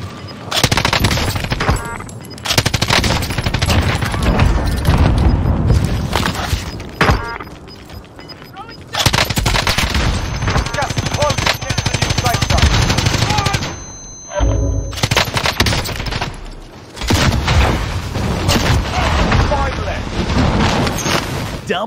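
Sustained automatic fire from a 200-round PKM light machine gun in Warzone, loud, long rattling bursts separated by brief pauses, with explosive booms mixed in throughout.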